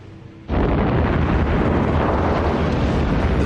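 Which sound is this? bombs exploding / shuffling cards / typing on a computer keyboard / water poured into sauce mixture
bombs exploding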